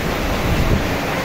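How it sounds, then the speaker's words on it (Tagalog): Strong wind gusting through trees in the Philippines like an approaching storm, a steady loud broadband rush with no pauses and no voices. "Okay, so lakas ng hangin."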